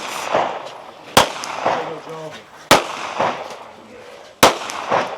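Sharp rifle shots ring out at a regional competition firing line, three loud separated cracks spaced over a few seconds, with voices talking in between.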